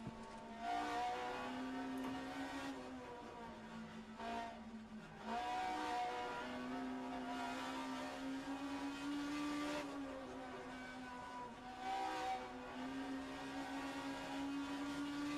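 A BMW 320 Turbo Group 5 race car in rFactor 2 at Lime Rock drones onboard, its engine note rising and falling through repeated shifts and throttle lifts, loud and continuous.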